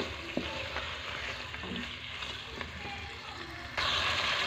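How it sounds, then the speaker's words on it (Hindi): Chicken pieces with whole garam masala fry in a pot for a yakhni broth, a steady moderate sizzle with faint stirring scrapes, growing brighter and louder near the end. "साथ ही इसके साबुत गरम मसाला ऐड करेंगे। और इसकी भुनाई करेंगे।"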